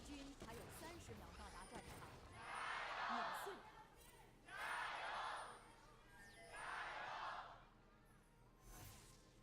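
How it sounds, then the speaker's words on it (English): Esports fans in a Shenzhen arena at an LPL League of Legends match between NIP and BLG erupt in three separate swelling waves of roaring cheers, with a commentator talking between and under them. "Love to hear the crowd in Shenzhen getting loud there"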